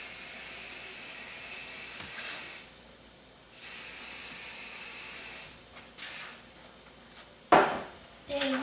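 Several short bursts of hair spray hiss, loud and close, separated by pauses, with a brief clatter near the end.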